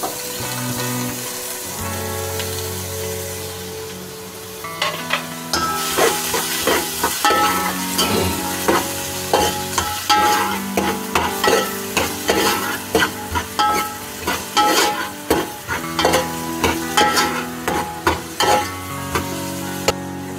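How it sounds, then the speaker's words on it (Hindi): Onions frying in oil in a pan while being stirred, for a shahi haleem recipe: a steady close sizzle broken by repeated rhythmic scraping and clacking strokes of the spoon against the pan. "और इसको मैं प्याज डाल दूंगी और प्याज को फ्राई कर लूँगी।"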